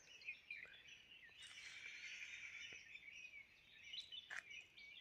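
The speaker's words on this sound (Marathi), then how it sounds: "पक्ष्यांचा फक्त गोंगाट ऐका" Faint bird calls and chirps drift through a quiet forest near a waterfall, a soft continuous twittering with a few brief sharper notes, no voices.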